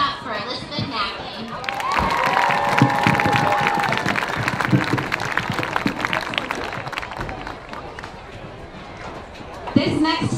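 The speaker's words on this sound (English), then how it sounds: "Please clap it up for Elizabeth Mackey." A crowd at a high school varsity football game claps and cheers for a senior athlete, a broad sustained wash of applause and shouts lasting several seconds while voices talk over it.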